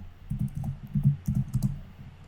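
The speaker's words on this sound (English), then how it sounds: "I'm going to type here" Computer keyboard keys tapped in a short burst of soft, close clicks, quiet and alone.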